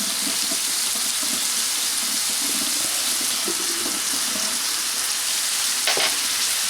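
Rice noodles frying with oyster sauce and soy sauce, a steady bright hiss of sizzling with soft stirring taps, close and unbroken, with a short clink near the end.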